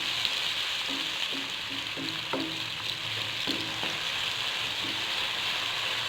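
Tomatoes with salt frying in a pan for aloo anda curry, a steady close sizzle with soft stirring clinks throughout, no talk.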